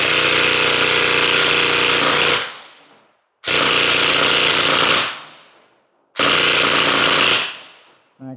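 An Aztech Chimera gel blaster fires three long full-auto bursts of gel rounds at a rapid rate, a loud buzzing rattle, each burst lasting two to three seconds with brief pauses between, heard up close with no talking.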